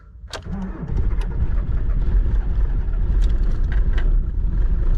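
An old car's engine cranks briefly, catches and settles into a loud rough idle with a slight sputter, heard up close on a cold morning; no talk.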